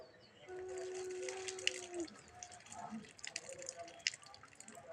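Running water from a tap splashes and trickles while two items are washed by hand in a sink, close and steady, with faint clinks and a brief tonal squeak early on.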